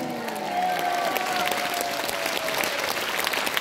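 A church congregation claps continuously and enthusiastically, a dense wash of applause lasting throughout, with a faint sustained tone fading beneath it.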